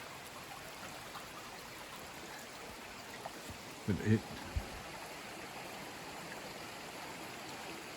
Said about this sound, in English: All you hear is just the water running.